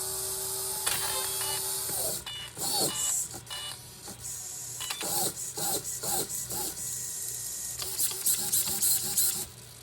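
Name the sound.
stripped steering servo on a Losi LMT monster truck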